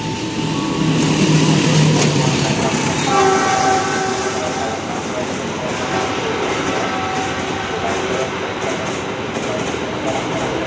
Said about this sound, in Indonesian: Dari sisi double track arah timur melintas langsung kereta api Argo Bromo Anggrek.